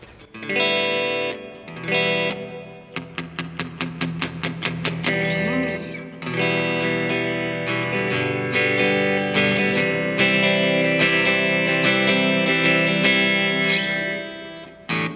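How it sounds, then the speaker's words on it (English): Electric guitar chords and a run of quick plucked notes through a Hall of Fame hall reverb pedal, washed in long, spacious reverb that lingers and blooms between strums. "We've got the Hall of Fame reverb just really quickly"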